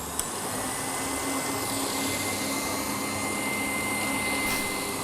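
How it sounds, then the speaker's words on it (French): An electric mixer runs at maximum speed whipping egg whites for meringue, a steady close whirring drone held throughout without talk. "j'accélère pour mettre à la vitesse maximum pour serrer mes blancs"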